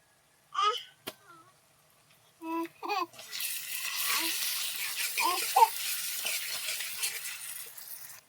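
Onion paste is added to a hot pan and starts to sizzle loudly, holding a steady frying hiss for several seconds, and a voice speaks before it begins.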